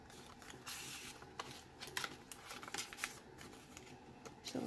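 Pages of a handmade journal with stenciled book pages, library card pockets and fabric are flipped quickly, giving a faint, soft, papery riffling flutter that runs without a break for several seconds, close by.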